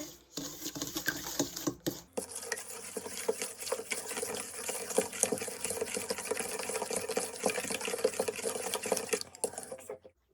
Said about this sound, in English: we're going to beat this mixture together